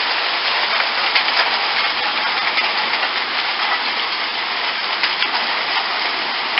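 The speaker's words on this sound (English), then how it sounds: "Can you see the hail in the grass?" Hail falls on grass during a storm, a dense, loud, unbroken hiss of pelting ice and rain that holds steady throughout, with no voices.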